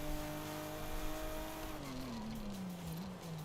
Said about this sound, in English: pretty much every car in this game actually gets a unique noise